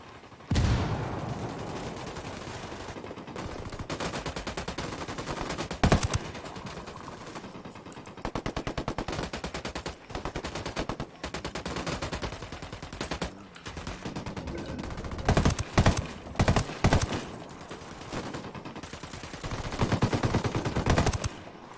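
Sustained automatic gunfire rattles on for over twenty seconds in long dense bursts, with brief pauses and louder volleys near the middle and end, close and heavy with no voices.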